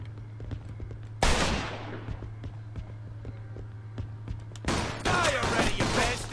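Gunfire in the video game Mafia II: several loud, close shots and bursts crack out amid rapid footsteps and running, with a low steady hum beneath and short sharp reports scattered throughout.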